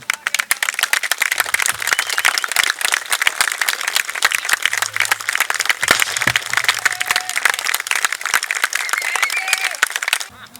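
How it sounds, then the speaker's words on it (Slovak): Outdoor audience applauds at the close of a partisan battle reenactment by a military history club, dense loud clapping sustained for about ten seconds before cutting off, with faint voices underneath. "vyjadrime to nejakým potleskom"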